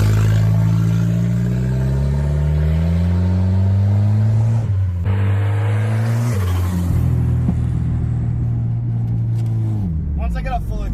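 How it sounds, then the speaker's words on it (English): A Volvo 760 station wagon's engine revs loudly and steadily up and down, with pitch climbing and dropping several times across the clip, and voices talking close by throughout. "This is the elegant new Volvo 760 station wagon."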